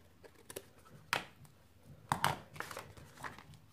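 Paper is cut while making an envelope on a punch board, with a few quiet crisp snips and paper rustles spaced across a few seconds.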